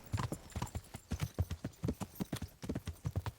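Horse hooves clip-clop at a steady walking rhythm on a hard surface in the medieval game Kingdom Come: Deliverance, close and clear, with no talking over them.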